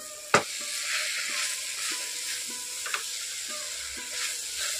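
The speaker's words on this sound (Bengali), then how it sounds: "এইভাবে খুব ভালো করে কিন্তু ছোলার ডাল আর পটলটাকে একসঙ্গে এইভাবে মিশিয়ে রান্না করে নিতে হবে।" A spoon scrapes and stirs pointed gourd with chana dal in a pan, giving a steady soft sizzle with light periodic scraping clicks and one sharp knock near the start, no voices.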